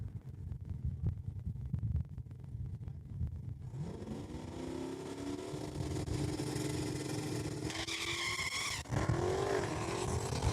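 A Dodge Demon and a 2003 Ford Mustang launch down a drag strip at Saskatchewan International Raceway: loud, close engine roar with revving and tire squeal, the pitch climbing steadily as the cars accelerate away.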